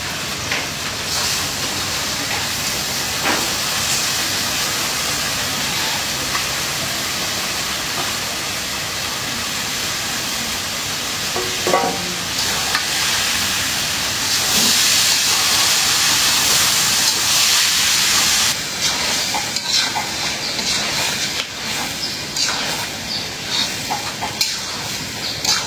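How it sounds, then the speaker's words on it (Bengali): Broken rice being dry-fried in a pan, a steady broadband hiss and sizzle with scraping stir noises running throughout, fairly loud and close, no talk. "ভাজা ভাজা করে নিলাম চাউল।"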